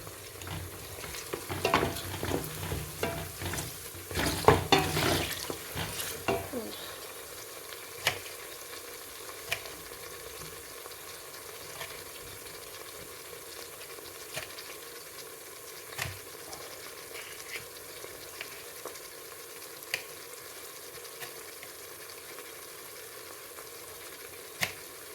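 Garlic ginger paste sizzles and is stirred in a pan for chicken curry, with loud, busy frying and scraping over the first few seconds, then a steady, quieter sizzle with occasional clicks.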